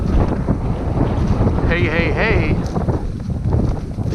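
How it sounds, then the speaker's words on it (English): Strong, steady wind buffets an outdoor microphone in breezy trapping weather, a continuous low roar filling the whole stretch while a person briefly speaks. "It's still breezy, so I apologize for that."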